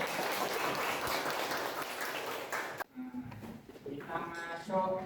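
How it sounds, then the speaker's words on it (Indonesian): Classroom audience applause at a teaching session, a dense, loud wash of clapping for about three seconds that stops abruptly, followed by a voice speaking. "tepuk tangan"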